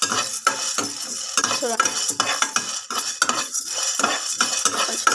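Eggs fry in garlic masala as a utensil stirs and scrapes the pan in quick repeated strokes over a constant sizzle, close and busy, with one brief spoken word.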